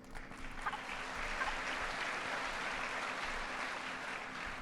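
Audience applause at a State of the Union address, a sustained even roar of clapping from a large crowd in a big hall, with no speech over it.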